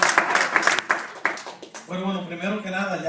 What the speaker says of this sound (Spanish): Vamos a devolverle ese fuerte aplauso a Juancito